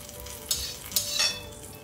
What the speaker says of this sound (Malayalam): ഇങ്ങനെ കോരി എടുക്കുമ്പോ ആ മുളക് കൂടി മൂത്ത് വരും.